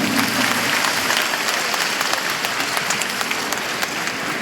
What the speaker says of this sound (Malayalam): ഒന്ന് കൈയടിക്കുന്നേ.